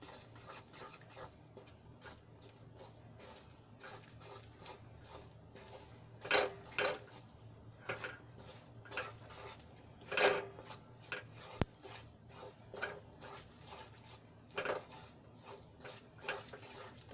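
Flour being stirred into hot ghee in a kadai for sukhdi, heard as scattered scraping and clinking strokes of a spoon against the pan over a low steady hum, with a few louder knocks, no talking.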